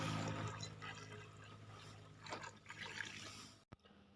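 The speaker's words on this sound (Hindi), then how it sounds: "अभी भी 2-3 पानी से धो रहे हैं. गर्म पानी से ही धोना है." Hot water being poured and sloshed while rinsing mercury two or three times in a vessel, a steady continuous wash of liquid close by, with brief splashes toward the end before an abrupt stop.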